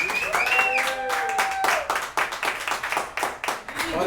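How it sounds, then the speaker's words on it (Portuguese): A church audience claps and applauds for the music ministry, with a rhythmic burst of clapping that follows a sustained sung or spoken tone, loud and close. "Uma salva de palmas para o nosso Ministério de Música."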